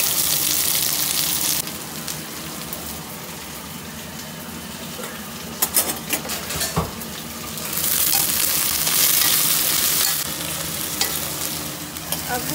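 Okra frying in oil in a kadai, with a loud, continuous close sizzle and occasional stirring clatter and scraping, the hiss swelling and easing, no talking.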